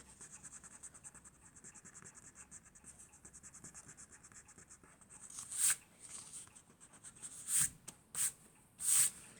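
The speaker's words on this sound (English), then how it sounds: "make sure that your drawing is dry before you rub the pencil out" Eraser rubbing out pencil lines on a dried drawing: a quiet, steady scratchy rubbing for several seconds, then a few louder, brisker strokes near the end.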